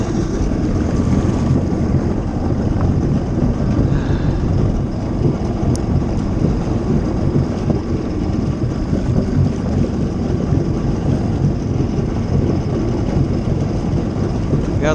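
A personal watercraft fitted with a new TDR WaterBox exhaust runs steadily at speed on the water, giving a loud, continuous droning engine roar with wind and spray noise throughout, no breaks or talk.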